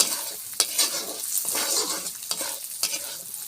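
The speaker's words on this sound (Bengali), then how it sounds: "এবার কলাইয়ের ডাল তেলে দিব। ডালটা সুন্দর করে একটু ভেজে নিব।" Kalai dal fries in hot oil with a bright, continuous crackling sizzle, broken by the scrape and clatter of a stirring spoon, close and fairly loud with no talking.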